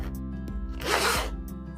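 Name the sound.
newly sewn hoodie zipper being zipped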